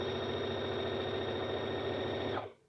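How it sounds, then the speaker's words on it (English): A Brother Innov-is BQ950 sewing and quilting machine runs in one smooth, quiet, continuous hum for over two seconds, then stops abruptly. "you can tell it sews very smoothly, very quietly"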